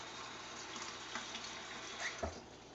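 Water runs steadily from a tap into a jar of cooking mixture seasoned with MSG, garlic and ginger for sesame chicken, a continuous close hiss and splash with no talk over it.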